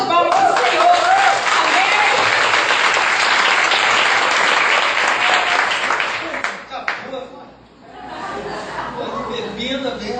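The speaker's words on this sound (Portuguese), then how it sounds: "A salva de palmas do Senhor." A church congregation applauds loudly for about seven seconds in a broad, steady wash of clapping, then it fades and thins into scattered claps and murmuring voices.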